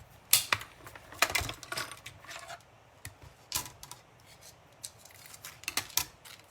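Paper tree shape being cut with craft dies, heard as a series of sharp close clicks and crunching snaps at irregular intervals over a quiet background.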